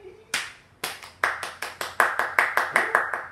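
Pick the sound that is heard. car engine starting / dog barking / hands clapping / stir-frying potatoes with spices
hands clapping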